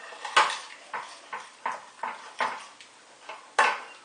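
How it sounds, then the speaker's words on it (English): A spoon scraping and knocking against a pot while stirring chicken curry, about eight rhythmic clinks and scrapes at roughly half-second intervals, close and distinct with no voices. "I'll just mix this around now"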